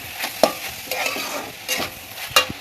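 A frying pan being stirred before greens go in, with repeated scraping strokes of a utensil over a continuous sizzle, close and fairly loud.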